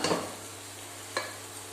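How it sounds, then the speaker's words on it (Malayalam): Cooked lentils (parippu) stirred into a masala frying in a pan: a soft hiss of sizzling with two brief scraping stirs, close and quiet, no talking. "ഇനി നമുക്കിതിലേക്ക് നമ്മൾ വേവിച്ച് വെച്ച പരിപ്പ് ചേർത്ത് കൊടുക്കാം"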